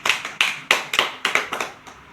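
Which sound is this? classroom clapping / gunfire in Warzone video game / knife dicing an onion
classroom clapping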